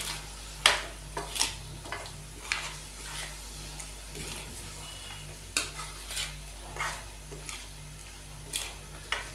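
Beef being stirred and fried with coriander powder and red chili powder in a pot, with repeated scraping clinks of a spoon against metal over a steady low sizzle, no talking.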